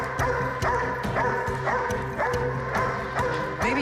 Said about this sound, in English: Have you met my dog?